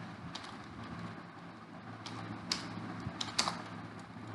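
Fingers type a name on a computer keyboard in Bijoy Classic Bangla software, producing faint, sparse key clicks over a low room hum, with a few slightly sharper taps near the end.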